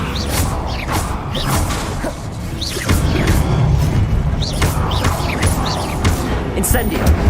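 In Hogwarts Legacy, the levitation spell lifts heavy stone statues with repeated swooshing magical bursts, grinding creaks and low booms. These come in several close, loud waves over a rumbling game background.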